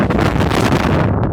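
Strong, steady rush of air from an air conditioner unit blowing hard, a loud continuous broadband whoosh close to the microphone with no speech over it.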